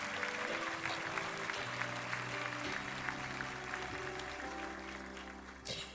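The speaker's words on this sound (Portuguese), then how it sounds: "Aplauda o Senhor" A church congregation applauds, a soft, continuous patter of many hands under a sustained musical tone that carries through the whole stretch.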